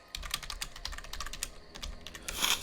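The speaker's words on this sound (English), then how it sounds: "One thing I do hear about the mechanical keyboards, though, is they click really loud." Fast, continuous typing on a loud, clicky mechanical computer keyboard during an online game session, with dense close-up keystrokes and no voices.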